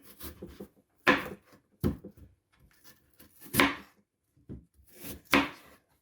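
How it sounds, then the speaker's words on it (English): A knife cuts rinsed potatoes on a cutting board, making a few separate woody chops and thuds spaced about a second apart, close and fairly loud, with soft rubbing handling noise between them. "now that I got my potatoes rinsed off, I'm gonna go ahead and cut them up"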